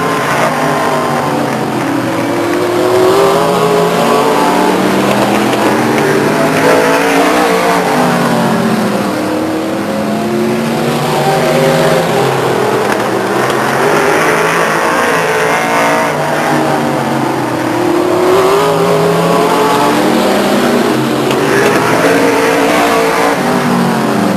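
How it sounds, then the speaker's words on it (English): Race cars lapping at Stockton 99 Speedway in 1999, with engines roaring continuously and loudly as the pack circles, the pitch rising and falling as the cars pass. "There's Young completing lap number 4"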